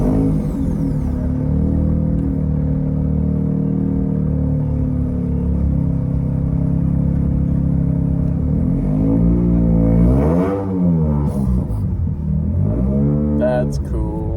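Car fitted with a swapped Mazda RX rotary engine pulling away: a steady buzzing idle, then rising and falling revs as it drives off, near and loud.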